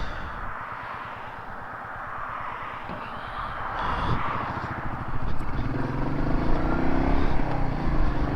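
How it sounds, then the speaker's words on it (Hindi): A car passes along a forest road in Epping Forest, heard from a Royal Enfield Meteor 350 motorcycle whose steady engine runs throughout; the passing vehicle swells in the middle and its rumble builds toward the end. "गाड़ी गुज़रती है तो इसके पीछे पीछे निकलेंगे"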